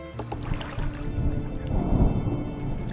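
A low, rolling rumble of distant thunder in the video game Draugen, heard from a rowboat on open water, building softly to a swell near the middle and then easing back down beneath a faint background hum.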